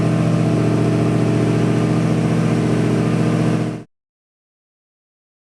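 Twin-turbo 472 cubic inch V8 in a 1959 Cadillac, a roughly 1,476 horsepower build, roars loud and steady with dense low rumble for nearly four seconds, then cuts off abruptly into silence.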